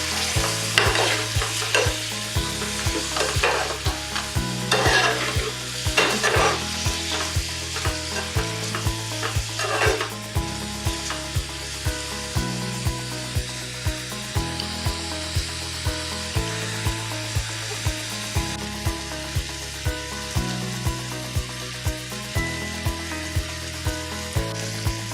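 Chopped onions and two tomatoes sizzling steadily in a hot pan while being stirred, with a continuous frying hiss and repeated scraping strokes of a spoon throughout, close up and without talk, for a Malvani dry oyster masala.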